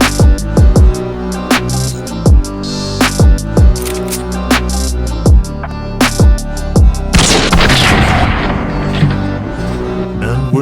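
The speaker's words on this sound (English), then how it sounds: "As most country folks do, Rune likes to shoot guns." Real guns fired outdoors in the Swedish countryside, a rapid string of sharp, loud shots with booming low tails, followed by a denser burst of rattling crashes near the end.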